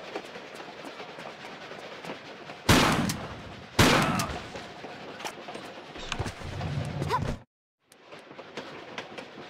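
Shotgun blasts in the video game Tomb Raider The Last Revelation, set at the Desert Railroad: two loud sharp booms about a second apart over a rumbling moving-train backdrop, which then cuts out briefly before resuming.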